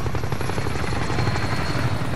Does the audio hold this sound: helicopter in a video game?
yes